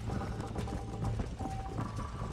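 Horse hooves clip-clop in a steady galloping rhythm during a Red Dead Redemption race, moderately loud over a continuous background of game ambience.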